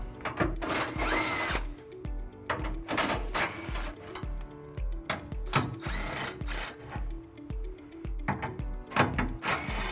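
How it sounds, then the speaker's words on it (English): A power socket tool with a 13mm socket runs off four bolts from a center bracket on a 2016 Chevrolet Colorado, close-up repeated whirring bursts of a few seconds each, stopping and restarting, with ratchet clicks between. "there is a center bracket that we'll remove by taking out these 4 bolts"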